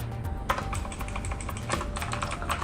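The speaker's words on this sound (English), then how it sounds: "I think this keyboard works great for typing." Typing on a Ttesports Poseidon Z RGB gaming keyboard with blue switches, a steady stream of sharp clicky keystrokes in quick irregular rhythm, close and alone.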